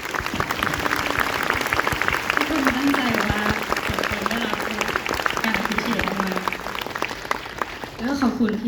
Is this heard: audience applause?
yes